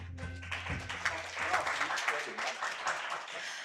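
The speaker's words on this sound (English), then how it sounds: "Ladies and gentlemen, please, another big round of applause," Seminar audience at a public health policy conference applauding at the end of a morning session, a sustained room-wide patter of clapping heard fairly quietly, with a brief voice or tone at the very start.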